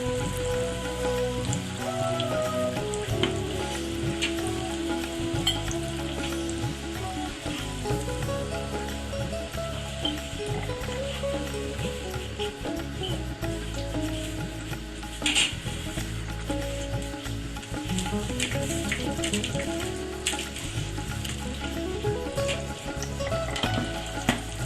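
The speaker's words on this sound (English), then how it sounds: "I'll keep frying the balance of the frikkadel." Sri Lankan frikkadels frying in hot oil, a steady loud sizzle and crackle that runs without a break, with occasional stirring noises and no voices.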